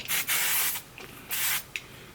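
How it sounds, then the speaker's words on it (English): Several short hissing bursts from an Aveda Air Control hairspray can, in quick pulses with brief pauses, close and fairly loud. "I'm just going to take a little bit of my Aveda Air Control hairspray"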